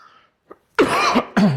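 A loud, close cough: a faint throat noise, then a harsh burst of coughing followed by a second sharp cough.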